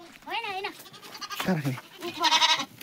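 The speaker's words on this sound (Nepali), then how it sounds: "हाम्रो बाख्रा पनि छ क्या बाख्रा चाहिँ 18वटा छ" Goats on a farm bleat several times in quick, wavering cries close by, mixed with people talking over them.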